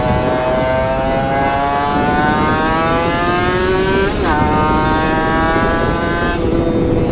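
Vespa Sprint scooter fitted with a lowering kit riding along an empty road, its engine droning steadily and loudly throughout with rising and falling pitch as it accelerates and shifts, plus wind noise.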